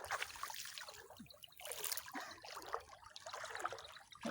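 River water flows and trickles nearby in a steady, bubbling wash that rises and falls in gentle surges, moderately quiet with no talking.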